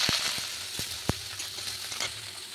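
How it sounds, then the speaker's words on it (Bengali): Washed, dried kachki fish sizzle in hot oil in a pan. A steady hiss runs throughout, broken by a few sharp pops and spatters, close and fairly quiet, with no voices. "এবার আমি সেই ধুয়ে রাখা মাছগুলোকে একটু ভেজে নেব"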